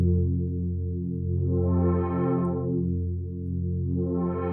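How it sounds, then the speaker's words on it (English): Sustained sample in Guru Sampler with an LFO sweeping its filter, a droning, distorted tone that slowly opens bright and closes dull twice in a rising and falling cycle, alone and steady. "I'm using the LFO inside of Guru Sampler to play with the filter"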